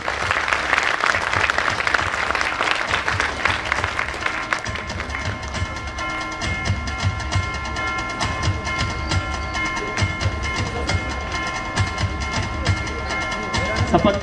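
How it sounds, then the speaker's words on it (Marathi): Applause at a Konkan award ceremony, a sustained roomful of clapping that starts loud and continues steadily throughout, with a voice over a loudspeaker briefly audible at the start. "एकदा जोरदार टाळ्या होऊ द्या."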